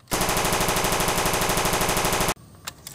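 A toy AK-47 gun plays its electronic machine-gun sound effect, a loud, fast, evenly pulsing burst lasting about two seconds before cutting off abruptly, followed by a few faint clicks.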